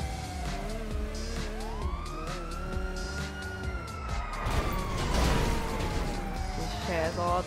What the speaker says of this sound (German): Wie er die Sirene auch hat.